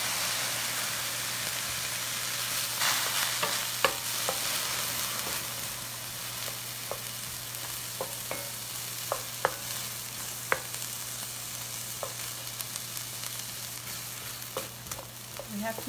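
Onion and garlic fry for baked samosas, a soft continuous sizzle under a low steady hum, with scattered faint clicks and taps of stirring.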